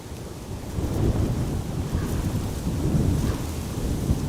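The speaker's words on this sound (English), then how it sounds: "it's a day with a lot of wind and occasionally a few droplets" Strong, gusty wind at Amsterdam Schiphol Airport on a stormy day: a dense, continuous low roar buffeting the microphone, swelling in waves, with no voices.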